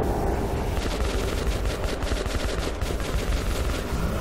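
Dense automatic gunfire from the video game Metro 2033 Redux, rapid continuous bursts under a loud layered din, sustained throughout at close range.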